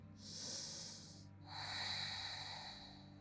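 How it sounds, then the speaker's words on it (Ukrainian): Deep breathing during a vinyasa yoga flow, a long airy inhale followed after a short pause by a second, louder breath, close and alone with no talk. "Заключний глибокий вдих."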